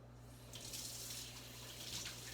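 Tap water running into a sink while hands are washed in a kitchen, a soft steady splash that starts after a moment and continues faintly throughout.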